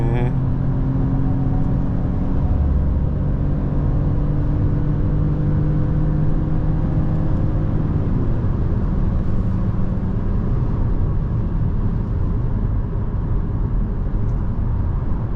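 New Ford Focus accelerating hard past 120 km/h, a steady close engine and road roar inside the cabin with a tone that climbs then settles, brief speech at the start.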